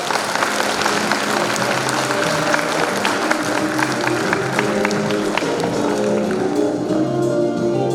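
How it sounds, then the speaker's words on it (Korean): Sustained applause from a large audience at a pharmacists' association fair and training event in Jeonbuk, welcoming the association president to the stage; dense, steady clapping with crowd noise throughout, no speech. "다시 큰 박수로 모시도록 하겠습니다"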